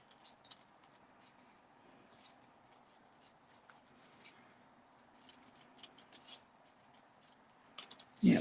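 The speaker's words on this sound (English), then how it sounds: "And don't forget you're turning the paper, not the scissors." Scissors snip through paper during a crafting class, producing quiet, close, irregular cuts with soft rustling of the paper being turned, ending in a louder handling noise.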